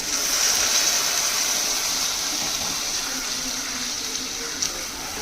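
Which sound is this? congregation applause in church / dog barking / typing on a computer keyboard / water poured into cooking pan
water poured into cooking pan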